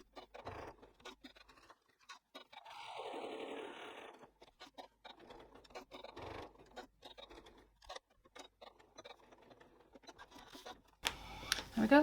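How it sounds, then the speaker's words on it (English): A home sewing machine stitches around the edge of a fabric clamshell sling with a hemming foot and a longer stitch length, running in short bursts of rapid mechanical whirring and ticking, separated by brief pauses and soft handling clicks. "So let's stitch that around the edge."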